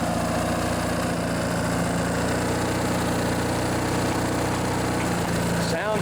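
A small lawn mower engine idles after starting with the choke just turned off, a steady close rumbling putter that runs continuously and loudly, with a voice partly audible over it.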